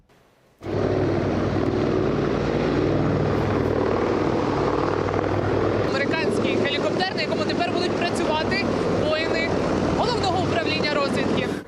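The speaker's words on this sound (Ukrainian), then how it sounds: "медичний гелікоптер Сікорський С-76 Альфа призначений для гуманітарних місій та медичної евакуації" Sikorsky S-76 Alpha medical helicopter, used for humanitarian missions and medical evacuation, with a loud, steady rotor and engine roar filling the whole clip after a sudden start, plus whistling, warbling tones in its second half.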